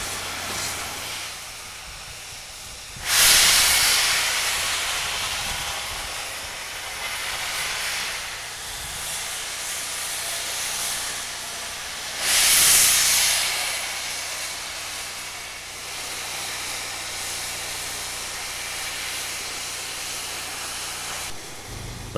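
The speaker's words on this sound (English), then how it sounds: "The 2719 is now moving under steam for the first time since those last passenger excursions in June of 1959." Soo Line 2719, a 4-6-2 Pacific steam locomotive, moves under steam with a broad continuous hiss and two loud bursts of steam venting, heard at moderate distance with no voices.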